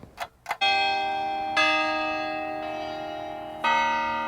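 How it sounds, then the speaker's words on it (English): Church bells ring from the repaired Brandt Campanile bell tower, with loud sustained tolls that strike, swell, and decay, rung three times over a few seconds after two brief knocks. "no rings, chimes, nor melodies were sounding from our bell tower, but that has now changed"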